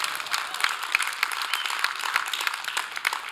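Church congregation clapping, a light, scattered patter of hands with individual claps standing out, fairly soft and uneven, heard on its own without talk.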